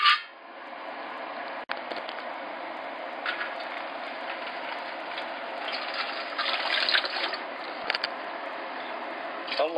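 Water runs from a tap or jug into the bottom of a steam pressure canner as part of home canning of vegetable beef soup. It is a steady, hissing trickle with a few metallic clinks and a brief knock near the start.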